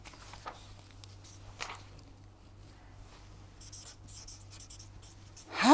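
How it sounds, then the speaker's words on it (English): A pen scratches out a sketch during a signal-processing lecture on low-pass filters, with faint, intermittent strokes and pauses and no speech. "Let me sketch that for you."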